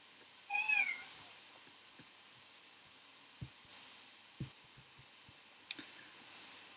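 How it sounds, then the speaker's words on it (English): A cat gives a single short meow early on, fairly quiet and nearby, followed by faint scattered thumps in an otherwise hushed room during a maths lecture. "sorry if you can hear my cat in the background, it's being noisy."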